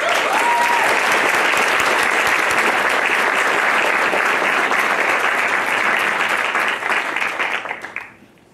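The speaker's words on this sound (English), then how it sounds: "would you join me with a round of applause to welcome Janan Graham Russell" An audience applauds to welcome a speaker at an academic session, steady dense clapping that fills the room for about eight seconds before tapering off and stopping.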